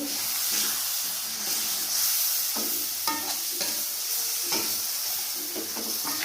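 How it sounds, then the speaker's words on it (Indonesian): Cooked Indonesian spice paste is stirred in a pan after boiled water is poured in, giving a continuous close hiss and sizzle with repeated spoon scrapes and clinks in an uneven rhythm. "Bumbu sudah masak, kita masukkan air yang matang, diaduk lagi"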